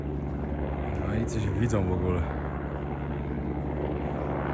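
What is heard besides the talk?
helicopter flying in the clouds over the Himalayas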